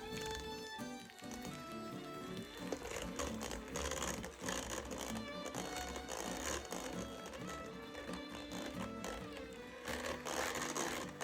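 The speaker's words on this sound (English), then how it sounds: "Start mixing on low speed, then gradually increase to medium-high until everything is blended together well." An electric mixer blends cream cheese frosting with butter and vanilla, its motor whirring continuously and loudly up close, running from low speed up toward medium-high with steady churning beneath.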